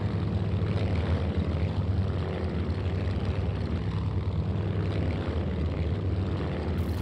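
Aircraft engine drone over a naval fleet in the Vietnam-era flight game Strike Fighters 2, a steady, loud, continuous low roar with no break throughout.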